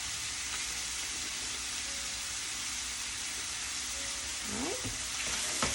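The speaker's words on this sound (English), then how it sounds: "And here I'm just browning some sausage" Fresh pork sausage browning in a pan gives a soft, steady sizzling hiss throughout, with a scrape of a utensil near the end and one brief spoken word.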